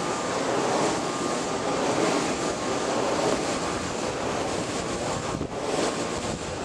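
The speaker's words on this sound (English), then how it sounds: "They do make quite a lot of noise, but I guess that's to be expected because of the size of the propellers plus the wind." Strong wind buffets outdoors behind a large wind turbine, a loud, continuous broadband roar with gusty swells and rumbling microphone buffeting throughout, and no voices.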